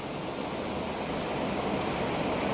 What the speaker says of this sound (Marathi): मस्तपैकी सुंदर झरा वाहत पाण्याचा इथं